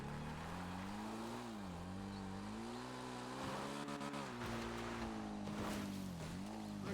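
A motorcycle in GTA Online hums steadily along, its engine note rising and dipping as it is ridden, under a wash of wind and road noise.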